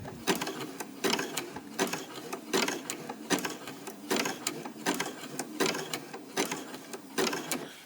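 A sewing machine runs in bursts as it stitches a rope coaster, its needle chattering in rapid mechanical runs that pause and restart roughly every half second, close and steady without voices.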